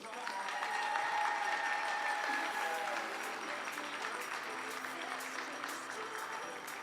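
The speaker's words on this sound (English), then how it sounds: "please give a round of applause" Audience applause at a junior women's air rifle final at the 2018 European Championships, a sustained, even round of clapping from the crowd in an indoor shooting hall, fading slightly toward the end.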